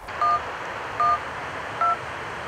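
Three short electronic dialing beeps on a mobile phone keypad, evenly spaced over a low background hiss.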